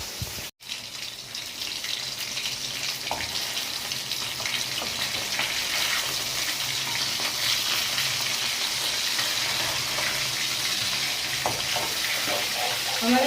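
Bhetki fish frying in a pan, a loud, steady sizzle that holds evenly throughout, dense and close with faint kitchen clatter.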